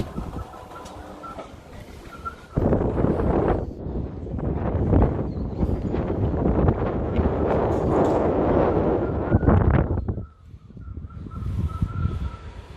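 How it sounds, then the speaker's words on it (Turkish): Strong gusty wind buffets the microphone on a villa balcony overlooking a pool, swelling into a loud, continuous roar for most of the clip before easing briefly near the end. No one speaks. "Dışarısı çok rüzgarlı."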